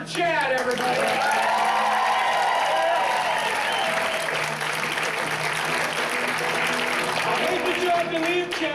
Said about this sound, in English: How about a big round of applause for Chad